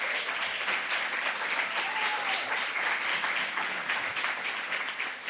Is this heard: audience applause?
yes